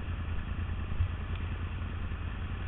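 A Yamaha R1 motorcycle engine on a motorway, a low, steady rumble heard close and moderately loud, with a regular pulsing beat and constant wind noise and no speech.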